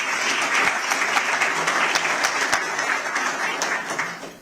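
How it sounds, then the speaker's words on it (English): A crowd at the City Dock Park preview event applauds loudly and steadily. Dense clapping holds for several seconds before easing slightly at the end. "Can we give them a round of applause?"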